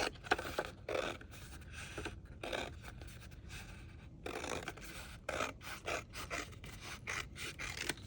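Scissors snip through folded paper strips in a close, quiet series of short, irregular cuts and rustles, with no talking.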